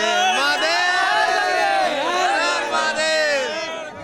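A dense crowd of pilgrims on the Ganges bank at Mahakumbh in Prayagraj fills the air with many overlapping voices, chanting and calling out together in a loud, sustained, close-up swell.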